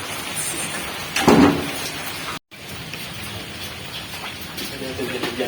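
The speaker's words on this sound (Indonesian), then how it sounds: "Hujan kieu dah." Steady rain falls and patters on surfaces outdoors, a constant wash of hiss throughout, with a brief thump and a short break midway.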